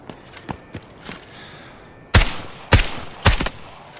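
Gunfire in the shooter video game Delta Force on the Layali Grove map: a few faint distant pops early on, then three loud, sharp shots or short bursts spaced about half a second apart, with no talking.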